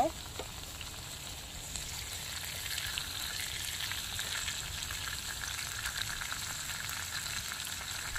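Croaker fish frying in hot oil, Mangalore style, a steady faint crackling sizzle holding evenly throughout with no other sounds over it.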